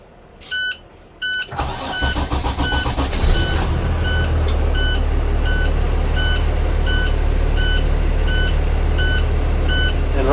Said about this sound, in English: here we are on a bus. I'm going to go ahead and start it up